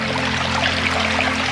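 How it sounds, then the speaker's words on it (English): Water pours into a bottle at a trail water stop beside a culvert during a self-supported 100 km trail run. It is a steady, close, continuous gush, unbroken from start to finish. "I'm gonna fill my water."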